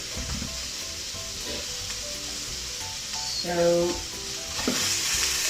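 Couscous-sized cauliflower rice sizzles and frys in a pan as it gets a final stir, steady hiss with scraping strokes and one brief spoken word over it.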